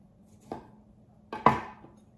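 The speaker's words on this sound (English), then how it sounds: "I think I'm going to score it with a knife." Knife scoring a chayote (mirliton) on a board: three sharp close cuts, one alone and two in quick succession, each ending in a short knock against the board.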